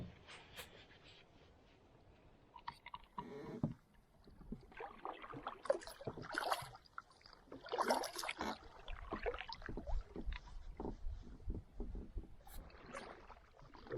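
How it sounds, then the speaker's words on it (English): Canoe paddling across a big lake on a cold day, with repeated soft watery strokes and splashes close by, irregular and gentle, over a light background hiss. "I'm paddling for a little while in this lake."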